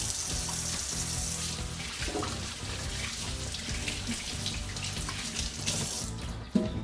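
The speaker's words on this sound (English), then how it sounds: "Now I just need to wash my hands." Hands being washed under a running kitchen tap, a steady close rush of water into the sink with small splashing shifts and a brief knock near the end.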